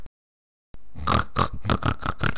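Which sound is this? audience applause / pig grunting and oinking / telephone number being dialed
pig grunting and oinking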